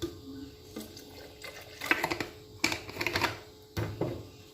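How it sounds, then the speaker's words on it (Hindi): Cold water is poured into a jug of churned cream and butter while making homemade desi ghee in a kitchen: soft, irregular splashing and sloshing with a few clinks, fairly faint and close, with no talk. "इसमें थोड़ा सा ठंडा पानी ऐड करूँगी"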